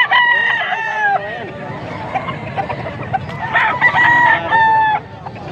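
Roosters crow repeatedly at a fowl market in Pampanga, several birds calling loudly and close, overlapping with clucking and busy market noise.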